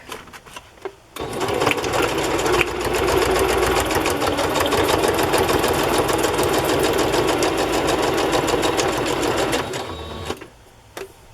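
A sewing machine stitching a doily onto a journal page runs in one steady rapid burst of about nine seconds, close and loud, with brief quiet handling before and after.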